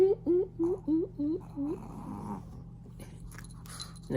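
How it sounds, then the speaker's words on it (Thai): A dog gives a run of six short, rising growl-like yowls in a steady rhythm, close and fairly loud, then quieter scuffling and faint voices follow in the background. "ไอหมากับไอแมว"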